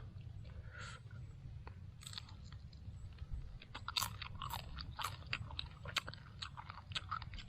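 Crunchy chewing of grilled rattlesnake: a run of close, sharp bites and crunches over a steady low background hum, with no talking.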